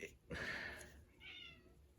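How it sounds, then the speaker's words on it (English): A house cat gives two short meows, the first louder and rising, the second softer, both close by in a quiet indoor room. "that's my cat."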